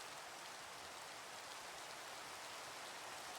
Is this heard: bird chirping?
no